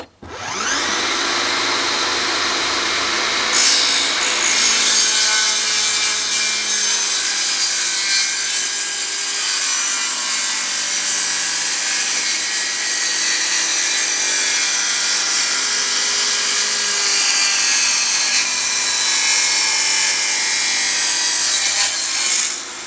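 Einhell PXC TE-TS 36/210 Li cordless table saw cutting narrow wood strips without dust extraction, a loud steady whine of the spinning blade with rasping cutting noise throughout, sitting close and continuous with no talking.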